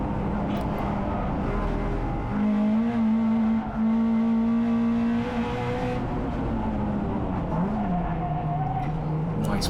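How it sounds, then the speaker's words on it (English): A Honda Integra DC2 Type R racing at Cadwell Park locks its tyres under braking, a sustained squeal that holds steady for several seconds and then wavers, over loud engine drone with faint talk. "Big lock up to open the stint"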